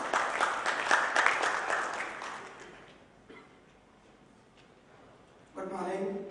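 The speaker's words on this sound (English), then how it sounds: "A round of applause for Mr." Applause at a ports summit in Mumbai: a burst of many hands clapping at first, tapering off into quiet room noise, before a voice starts speaking near the end.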